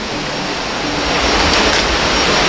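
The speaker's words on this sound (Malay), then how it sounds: "so kita akan ke bawah sini untuk melihat sungai" A river flows nearby, a loud, steady rushing roar of water with no voices.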